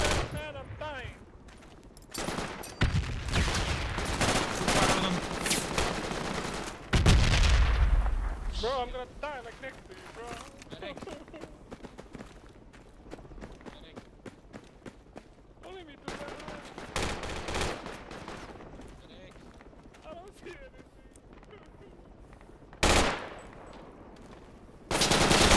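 Infantry gunfire in the military shooter game Project Reality on the Saaremaa map, with rapid bursts and heavy blasts that come and go, loud up close and thinner in the distance, while squad members talk over the radio.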